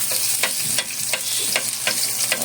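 Garlic sizzles in hot oil in a pan for a home-cooked squid dish, a steady close crackle broken by a few sharp stirring scrapes.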